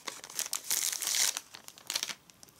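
Gift packaging holding organza-like lace trim crinkles and rustles up close as it is opened from the bottom, in uneven bursts that swell loudest in the middle and fade to softer handling.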